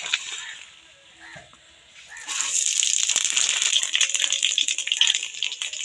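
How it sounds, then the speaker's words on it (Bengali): Mustard oil and five-spice seeds hit a hot wok, starting with faint rattling before a steady loud sizzle and crackle takes over and continues close up. "আমি তেল দিয়ে দিচ্ছি কড়ার মধ্যে"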